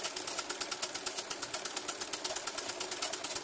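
An ordinary household sewing machine runs steadily, its needle chattering in a fast even rhythm while stitching green-thread run-stitch embroidery, close and fairly quiet.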